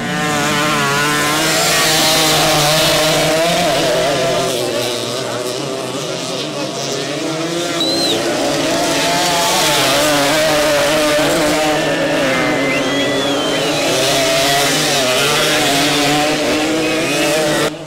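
Motorcycles race on a rural dirt track, engines whining and revving continuously at close range as they rise and fall in pitch, with other bikes buzzing in the background throughout.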